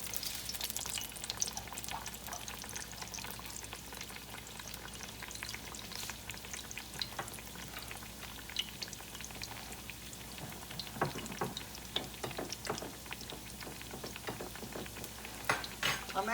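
Apple turnovers made with canned apples deep fry in oil, a continuous bubbling crackle with scattered pops that grows busier and a little louder toward the end.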